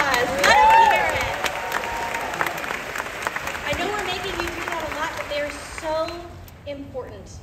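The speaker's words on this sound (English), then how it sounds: "Let's give them another round of applause." Audience applause at a Disney's Hollywood Studios 35th anniversary celebration honouring cast members, a dense crowd clapping loudly at first and slowly thinning, with cheers and voices mixed in before it tapers off near the end.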